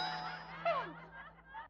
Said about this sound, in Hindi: घंटी बज गई, मैं दरवाजा खोलूं?